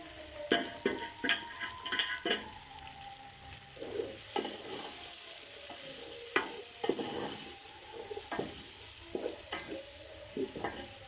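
Onions fry in a pan with a continuous sizzle while a spoon knocks and scrapes at irregular intervals, heard close with no talk.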